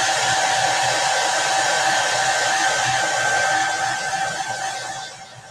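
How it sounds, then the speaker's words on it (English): A hair dryer blows with a steady, loud whooshing hum that holds for several seconds, then slowly fades out toward the end. "when you have a larger quantity of paint, I like to bring out the hair dryer"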